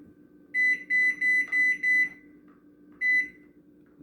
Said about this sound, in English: Let me go set my timer.